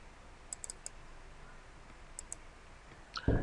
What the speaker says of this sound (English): click on finish.